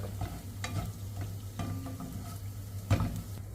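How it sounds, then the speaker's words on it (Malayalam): Eggs seasoned with salt and pepper are scrambled in a little coconut oil in a pan, giving a quiet, steady sizzle broken by close scrapes and taps of the stirring spatula. "അപ്പോൾ മുട്ടയിൽ ഉപ്പും കുറച്ച് കുരുമുളക് ഇട്ട് മുട്ട ചിക്കാണ്"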